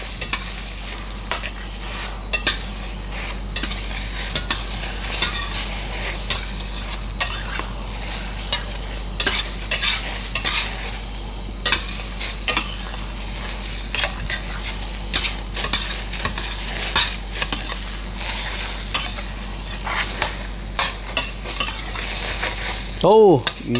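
Scrambled egg with black ants and shrimp is pushed slowly around a hot wok, giving a long run of close, rhythmic spatula scrapes and clinks over a continuous sizzle and low hum, with no talk.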